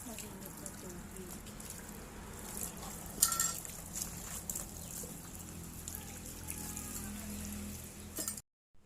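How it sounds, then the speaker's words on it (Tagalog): Hot water trickles and pours over a native chicken being scalded to loosen its feathers, a steady close splashing wash with a brief louder spatter midway and faint background voices. "Lagyan natin ng mainit na tubig yung chicken para mas mabilis ang pagtanggal ng kanyang balahibo."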